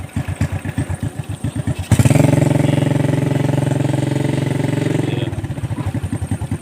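A motorized becak with a hand-operated gearshift idles with a loud, even, thumping putter, then is put into first gear and revs into a steady, strong drone before easing back to the rhythmic idle.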